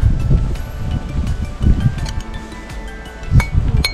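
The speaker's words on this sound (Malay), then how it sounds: "Angin tiup kan." Gusty wind buffets the microphone in uneven bursts outdoors in snow, with faint rustling in between.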